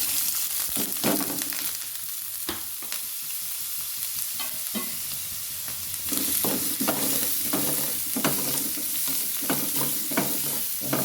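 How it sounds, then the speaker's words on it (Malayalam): Ginger frying in a little oil in a pan for a Kerala Onam inji puli, a steady loud sizzle broken by repeated scraping and stirring strokes of a spoon against the pan, with no talking. "നമുക്ക് നല്ലൊന്ന് വറുത്തെടുക്കാം"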